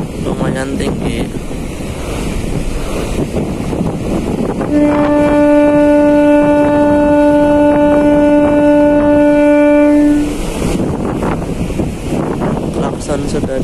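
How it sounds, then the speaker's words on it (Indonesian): The ship's horn of the KM Kirana VII blasts a long, steady, deep tone for several seconds over heavy wind noise and surf on rough seas, with voices before and after. "Klakson sudah dibunyikan."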